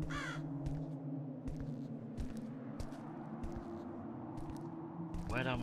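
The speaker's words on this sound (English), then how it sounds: "Those crows are making a lot of sounds." Crows cawing in a dark outdoor setting in a horror game, with two clear bursts of harsh caws at the start and end over a low steady rumble and scattered thumps.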